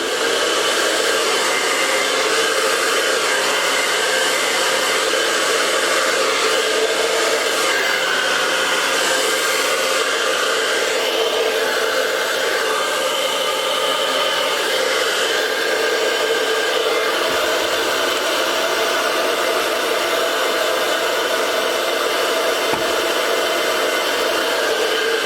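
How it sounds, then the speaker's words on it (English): A blow dryer used on a purple Dutch pour paint runs continuously with a loud, steady airy whoosh and hum, close by and unbroken throughout. "So I'm gonna go ahead and turn the blow dryer on."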